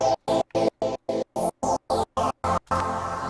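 A future bass synth in FL Studio playing a rapid run of eleven short, evenly spaced chord stabs, the last one held briefly, bright and up close with no voice.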